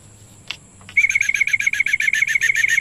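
A small bird chirps in a fast, steady run of bright repeated calls, close and fairly loud, after a brief quiet moment with a faint flutter, during pigeon road training.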